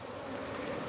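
Agitated honeybees buzz steadily inside a hive, a dense, close, continuous hum with no voices.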